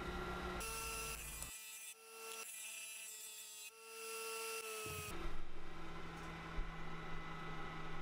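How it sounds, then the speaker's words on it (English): A disc sander grinds a flat spot on the bottom of a cast bronze balloon, making a whining, humming tone with several rasping contact passes that rise and fall over the steady motor sound. "I took it to a disc sander and flattened a small spot on the bottom."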